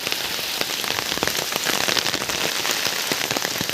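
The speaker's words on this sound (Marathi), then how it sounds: "म्हणजे पाऊस जाम मोठा." Heavy monsoon rain in the Konkan pours steadily, hissing on surfaces and coconut palms with dense spatters of drops, close and loud, and nobody speaks.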